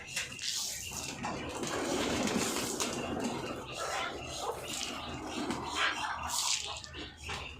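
Pigeons gather at a poultry farm at feeding time, their wings fluttering and soft cooing mixed with a busy rustle, close by, with other birds faintly chirping in the background.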